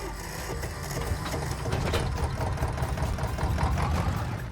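A tractor engine in the Farming Simulator 25 video game runs with a steady rattling mechanical chug, a dense continuous clatter heard close with no talk over it.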